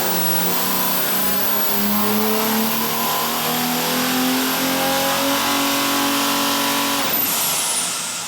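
A Mercedes OM606 diesel engine running on a Superflow engine dyno in a test cell, a loud, steady drone whose pitch slowly climbs and holds under load, then a brief shift near the end as the tone changes, with no talk.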